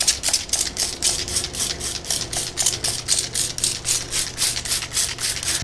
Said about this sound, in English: Spray this down really good, just soak it in there.